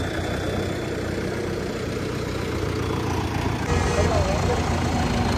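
A Sonalika 60 RX tractor's diesel engine idling nearby, a steady low rumble that holds throughout while people talk over it.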